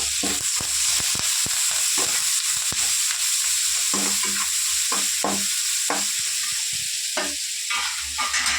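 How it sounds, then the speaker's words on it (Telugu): Green chillies, onion and curry leaves fry in hot oil, a dense continuous sizzle punctuated by frequent stirring clicks and scrapes, close and loud, with no speech. "నెక్స్ట్ ఆనియన్ నెక్స్ట్ కరివేపాకు అన్నీ వేసేసి ఒక టూ మినిట్స్ అలా ఫ్రై చేద్దాం"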